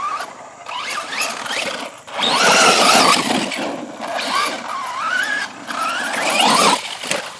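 A 3D-printed Rustler 4x4 RC truck drives with a whining electric motor and gear whir that rises and falls in pitch over several bursts, close and fairly loud, with no talking.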